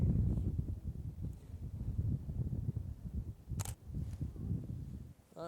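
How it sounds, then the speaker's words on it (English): Steady wind buffeting a Canon 60D camera's microphone outdoors, a constant low rumble throughout with a couple of brief clicks. "It's a bit more windy up here"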